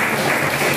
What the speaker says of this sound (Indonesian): Ya, aplaus untuk kelompok 1.